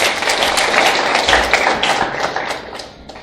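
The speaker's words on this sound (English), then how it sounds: "Mr. Mugambi will have to give us a round of applause." Audience applause for the presiding judge at a Kenyan moot court competition final, a steady wash of clapping with a few heavier thumps, fairly close and loud, tapering slightly at the end.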